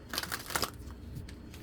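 Tarot cards are shuffled by hand in a short run of soft, papery riffling and slapping, close and fairly quiet, with no speech.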